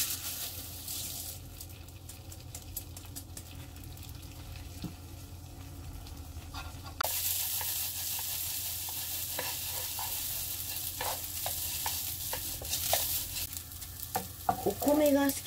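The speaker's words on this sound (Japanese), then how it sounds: "お米が透き通るくらいまで炒めるといいそうなんですが" Washed rice stir-fried in a pan for shrimp pilaf, with a steady sizzle that grows louder partway through, overlaid by scraping and stirring clicks near the end.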